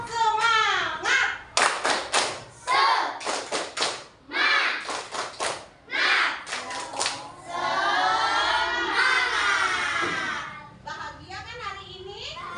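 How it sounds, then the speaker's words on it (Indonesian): A classroom of children performs a rhythmic Indonesian spirit clap, tepuk semangat, with loud, sharp bursts of clapping in patterned groups alternating with chanted voices and a longer shouted stretch near the end. "Kita tepuk semangat dulu."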